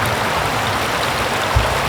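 A river in the Lake District, UK flows in a steady, loud broadband rush of water with no breaks, close by and with no voices.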